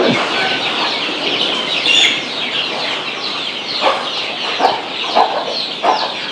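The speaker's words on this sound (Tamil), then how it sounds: "பாருங்க இப்படி விட்டுருவோம் அந்த கோழி அந்த பொறிச்ச குஞ்சுங்க" Hen with a brood of eleven newly hatched chicks clucking on a farm, soft repeated clucks scattered over a steady rustling background, no talking.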